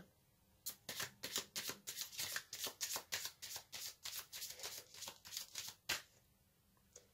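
Oracle cards for an aromatic oracle reading are shuffled in a quick run of close, crisp riffles and flutters lasting several seconds, followed by a card being drawn. The sound is fairly quiet with no talking.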